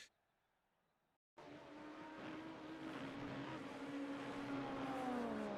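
Race cars roar in an IMSA series sim race at Watkins Glen, a loud continuous engine wash rising over several seconds as one car spins out, following a brief quiet gap at the start.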